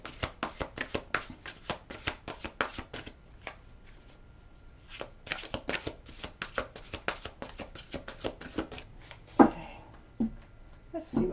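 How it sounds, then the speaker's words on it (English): Guardian angel oracle cards being shuffled and drawn by hand, a long run of rapid, crisp riffling flicks close by, with a brief pause and some softer handling toward the end. "I'm going to take out a guardian angel card for this reading."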